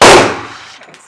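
A single loud gunshot at an indoor gun range, a sharp close crack that decays into a short echoing tail, with no talk.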